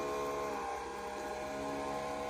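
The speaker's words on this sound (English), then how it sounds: "So we're going to turn the vacuum on." A freeze dryer's vacuum pump drones with a steady mechanical hum and tonal whine, running continuously at a low, even level.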